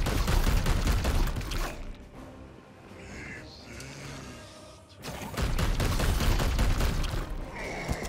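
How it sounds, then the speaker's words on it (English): Loud bursts of gunfire in a Warhammer 40k Chaos game, with dense volleys at the start, a quieter lull in the middle, then heavy firing again, mixed with booming impacts. "You start shooting."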